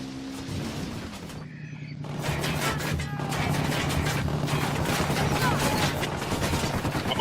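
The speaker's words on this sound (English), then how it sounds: "I'm opening fire." Rapid bursts of gunfire and automatic weapons fire in the tactical shooter game Ghost Recon Wildlands, loud and dense, rattling continuously for several seconds after a brief lull, with a steady low drone underneath.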